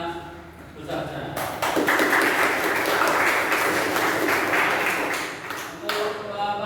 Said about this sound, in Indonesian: Mari kita beri aplaus yang besar-besaran